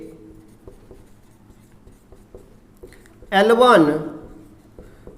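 Light scratches and taps of writing on a board during a maths lesson on relations and functions come through faintly, followed near the end by a short burst of a person talking.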